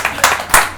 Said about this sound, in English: Slow claps